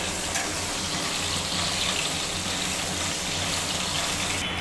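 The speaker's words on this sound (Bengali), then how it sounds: "এবার ক্যাপসিকামগুলো ভালো করে ভেজে নেব লাল করে। গ্যাসের ফ্লেমটা একটু জোরে দিয়ে দিলাম।" Capsicum pieces frying in a kadai over a high gas flame, giving a loud, continuous sizzle and hiss that stays steady and close throughout, with no talk.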